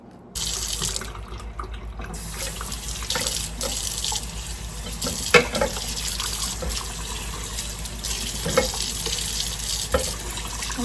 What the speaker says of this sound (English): when I'm cooking, I try to wash my dishes as I go along, so I don't have so many to do.